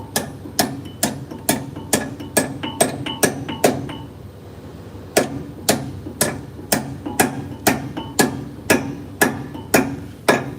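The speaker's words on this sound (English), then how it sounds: "Let's try to tap it one time." Sharp, evenly spaced taps driving a sliding rotor into place, about a dozen ringing metallic knocks in quick rhythm, a short pause, then another steady run, loud and close.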